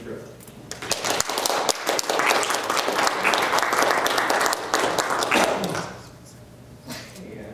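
Audience applause in a college lecture hall welcoming a comics creator to the stage, a dense sustained clapping crowd that swells then fades after about six seconds, with scattered voices and a dog barking briefly underneath.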